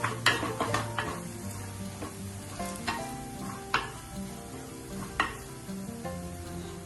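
Chili powder and coriander powder sizzle steadily in a hot pan for a homestyle potato and egg curry made without coconut, while a spoon stirs and scrapes with several sharp clinks against the metal.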